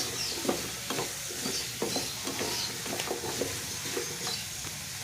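Carrots cooking in a pan for a homemade sauce give a steady sizzle, broken by a regular rhythm of stirring clinks and scrapes. The sound is close and continuous, with no voices.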